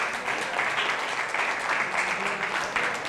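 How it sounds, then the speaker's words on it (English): An audience claps steadily, a dense burst of applause from a crowd filling the whole moment. "Can we have a big round of applause for Schools Week"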